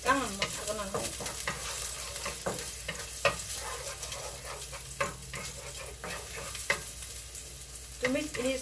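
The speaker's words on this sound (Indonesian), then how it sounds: "Tumis ini sampai harum baunya ya." Hong Kong bok choy stir-fries in a hot wok, with a constant close sizzle broken by repeated scraping and clanking strokes of the spatula as the greens are tossed.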